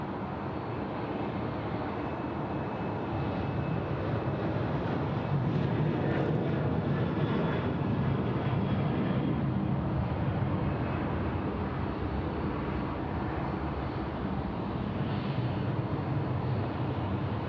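A Qantas airliner landing on runway 34 left at Sydney Airport, a steady broad engine roar that holds loud and even for the whole stretch, with no talk.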